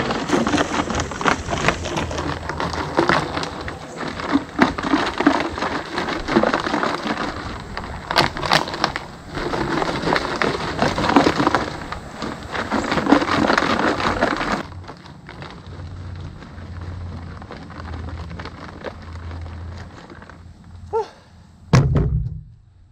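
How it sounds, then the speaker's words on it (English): A rusty, capped 1983 Honda XL200R fuel tank holding liquid is shaken hard, giving a loud, sustained rattling slosh that stops midway, followed by quieter handling and a sharp knock near the end. "Put our cap back on and do some shaking."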